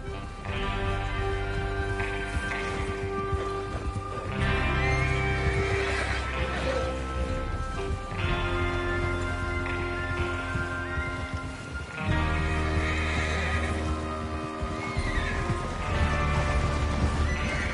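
Horses neighing and whinnying over steady, rhythmic hoofbeats and a droning musical background in the video game Red Dead Redemption 2, repeated several times at moderate loudness; no speech.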